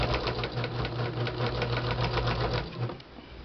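A sewing machine stitches thick, open crochet lace pieces for a pouch, its rapid mechanical clatter running steadily for about three seconds before slowing and trailing off.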